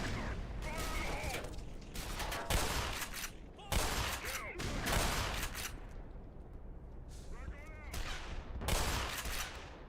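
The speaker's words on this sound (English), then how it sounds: "Sounds like one of them's got a weird rifle of some kind" Rifle gunfire rattles through a Black Mesa firefight, several loud close bursts of rapid shots separated by brief pauses, with shell and mechanism clatter between volleys.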